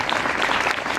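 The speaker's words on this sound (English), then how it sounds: "So if we can please put a big round of applause for our keynote speaker, Steve Scazillo." Dinner audience at a cycling advocacy awards banquet applauds a keynote speaker, a dense, steady wash of many hands clapping close and loud for the whole moment, with no talk.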